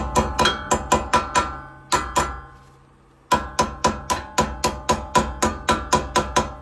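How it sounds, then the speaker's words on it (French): Steady metal hammering close by, a quick series of sharp ringing blows tapping a small cover back onto a Renault Scénic 4 rear brake, a brief pause, then another run of evenly spaced strikes. "Donc un marteau."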